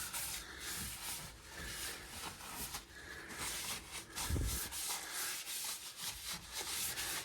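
A cloth rubs panel wipe over the bare metal panel of a genuine Escort Cosworth small turbo under repair, a steady close scrubbing hiss in repeated strokes with no talk.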